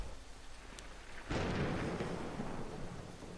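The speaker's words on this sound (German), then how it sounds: "Aber das Gewitter gefällt mir ganz und gar nicht." A thunderclap from a thunderstorm in the video game Brothers: A Tale of Two Sons breaks suddenly over a quiet background and rolls on as a loud, sustained rumble.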